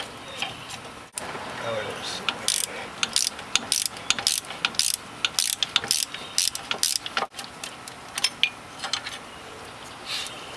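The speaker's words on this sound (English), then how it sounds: "all you need to do is get 2 14 millimeters. One to hold the bolt in place, the other one to turn." Two 14 mm wrenches working a bolt on the upper control arm of a 1995 Honda Civic, a close run of rapid ratcheting clicks in bursts with metallic ticks and brief pauses.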